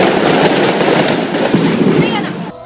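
Dense crackling fireworks bursts pop continuously amid a noisy, agitated crowd, with people shouting throughout before the din drops off at the end.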